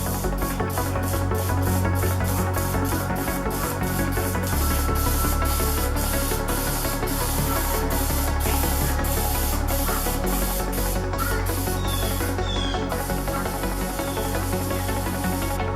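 A continuous loud hissing spray from an aerosol can of degreaser onto a junkyard LS engine, sustained for the full length with a few brief pulses and a short stop near the end.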